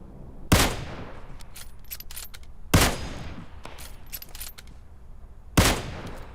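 Repeated bursts of automatic gunfire in a video game battle, three loud volleys spaced a couple of seconds apart, each with a sharp crack and a decaying echo, scattered smaller shots between them.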